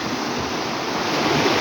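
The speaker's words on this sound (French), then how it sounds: "Regarde comme il a gonflé le temps d'une nuit d'orage." A small stream beside an old village washhouse, swollen overnight by a thunderstorm, rushing in a loud, steady broadband roar with no pauses and no voices.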